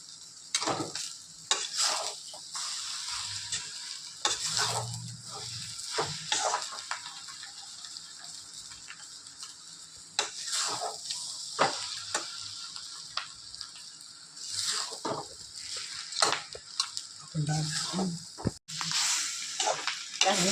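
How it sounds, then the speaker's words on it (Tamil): Repeated scraping and stirring of shredded chapati with egg and masala in a frying pan, with a soft sizzle underneath and sharp utensil clicks against the pan at an uneven pace, close up and with no talking. "இப்போ நம்ம எடுத்து வச்ச சப்பாத்தியும் போட்டு நல்லா கிளறிடணும்."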